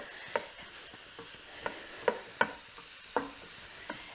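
Mushrooms and garlic stirred in a hot pan over medium heat, soft sizzling under a handful of sharp spoon scrapes and taps against the pan, quiet and close.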